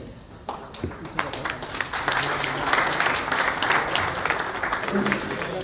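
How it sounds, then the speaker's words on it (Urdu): A crowd applauds the Karachi Ghazis team at a celebratory team dinner hosted by GFS Builders, steady clapping that swells and holds across the room while voices carry underneath. "یہ جو ہے یہ تالیاں بہت کم ہیں"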